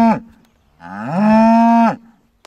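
A beef cow on a farm in Jarvis, Ontario gives a loud, close moo, a short first call followed by a long drawn-out bellow, with no talk over it.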